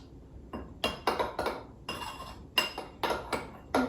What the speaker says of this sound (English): Now we're gonna mix all of these together to make our fry bread dough.